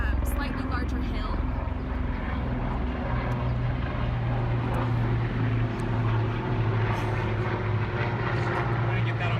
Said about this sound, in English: It's a helicopter. 2 helicopters.